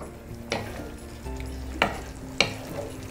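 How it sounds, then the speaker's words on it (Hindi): Dry rajma with capsicum and onion is stirred in a hot pan, giving three distinct scraping spoon strokes at an even pace over a soft, continuous sizzle, close up with no talking. "और अब इसे अच्छी तरह से एक बार मिक्स कर लेंगे।"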